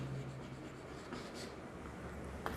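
Pen or chalk writing out the name of an alkyl group during a chemistry lesson on naming alcohols, a steady faint scratching that runs alone without pause for a couple of seconds.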